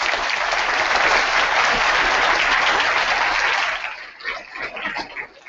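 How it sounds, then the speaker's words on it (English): Audience at a 2014 Institute Address at Georgia Tech gives a strong round of applause, a loud, dense roar of clapping sustained for about four seconds before thinning into scattered final claps. "Let's give them a round of applause."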